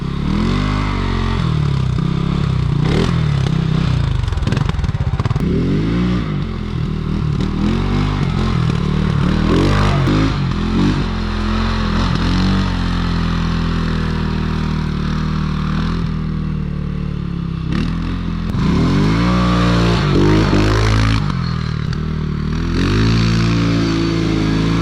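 A CFORCE 600 ATV of the 2020 redesign, its engine revving hard during a wheelie: a loud, close, continuous drone with repeated rising and falling throttle sweeps and some clatter, no voices.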